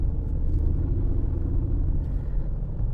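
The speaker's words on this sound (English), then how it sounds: "Nice sounding engine" A Mercedes CLK engine idles close by, giving a steady, deep low rumble with little change across its few seconds.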